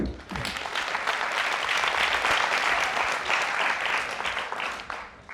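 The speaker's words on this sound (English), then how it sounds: "Everyone, please give him a round of applause." A stage audience claps loudly and steadily in a dense burst of applause that fills the whole moment before slowly thinning out.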